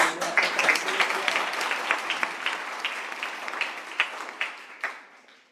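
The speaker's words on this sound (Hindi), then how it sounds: "एक बार सर के लिए क्लैप करेंगे।" A room full of people at a careers event applauds, with distinct individual claps standing out in the crowd as the clapping slowly dies away toward the end.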